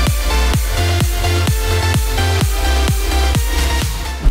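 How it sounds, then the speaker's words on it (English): A progressive house drop plays back loud and full, with a pumping sidechained bass and regular punchy kicks driving a steady four-on-the-floor pulse under layered bright synths. "So the entire drop sounds like this."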